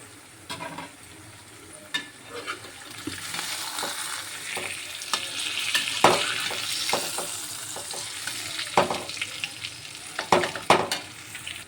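Eggs for egg curry sizzle steadily in a hot pan and are flipped over, with scraping and knocking of a utensil against the pan breaking through the continuous frying hiss; no one speaks.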